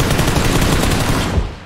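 Dense, continuous burst of automatic gunfire in PUBG, a first-person duo match, loud and close with rapid overlapping shots throughout and no talking.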